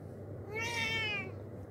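A hungry cat lets out a single drawn-out meow, rising and falling in pitch, fairly close and clear over a low steady background hum.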